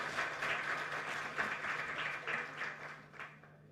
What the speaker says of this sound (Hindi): तालियां बजाइए इनकी हिम्मत के लिए